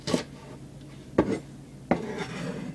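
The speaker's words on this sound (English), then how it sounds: "Now start chopping." A knife chops vegetable stalks on a board for a Japanese sesame shrimp stir-fry, three separate sharp knocks spaced about a second apart, close and fairly crisp.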